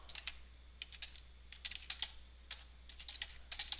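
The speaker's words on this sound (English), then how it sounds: "I'm going to type with the caps lock on" Typing on a computer keyboard with caps lock on: irregular quick bursts of light key clicks, close and fairly quiet, with no voice.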